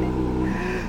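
Loud, throaty exhaust of a new Porsche 911 GT3 roars steadily up close, a brief burst of aggressive revving against a 4000 rpm limiter, with no talking.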